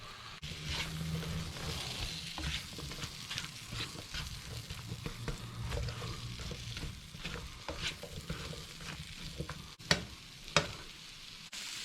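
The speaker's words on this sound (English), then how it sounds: "And we'll just give that a little stir." Beef with julienned ginger is stir-fried in a hot pan, with a soft continuous sizzle, scraping from stirring and a few sharper knocks near the end, heard faintly and alone.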